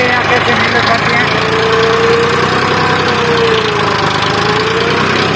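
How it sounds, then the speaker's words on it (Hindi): A farm tractor engine hauls a cultivator in second gear through a wheat field at about 1500 rpm, giving a steady, loud, close mechanical drone with a faint rising and falling whine that runs throughout. "अब दूसरे गेयर के अंदर है ना ट्राई करते हैं और देखते हैं दूसरे गेयर के अंदर कैसे कल्टीवेटर लग पाते हैं"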